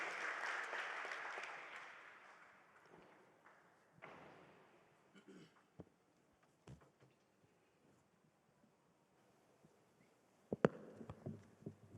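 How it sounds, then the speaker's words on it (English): Audience applause at the launch of the Swaziland Educational Research Association as a guest ascends the stage, fairly loud at first, then fading into scattered claps and thumps with a brief louder burst near the end. "may we give him a big round of applause as he ascends the stage"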